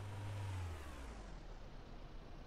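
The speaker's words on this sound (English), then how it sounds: "I need to start the engine" Engine of a vehicle in the video game Yosemite Forest Ranger, a steady mid-pitched hum with a low drone that drops slightly early on, heard alone and fairly quiet.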